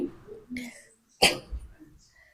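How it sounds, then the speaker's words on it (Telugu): A single sharp cough bursts out, close and abrupt, between soft murmured voice sounds before and after it. "దానివల్ల దగ్గు వస్తుంది"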